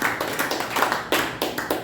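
Small audience clapping after a card trick, a handful of people applauding in uneven close bursts that swell and fade in short waves.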